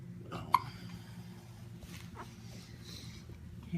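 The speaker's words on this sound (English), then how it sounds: "Oh, him and them hiccups." A newborn baby hiccups, with a sharp single hic near the start followed by softer breathy sounds, close to the listener in a quiet room.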